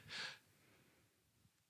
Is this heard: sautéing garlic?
no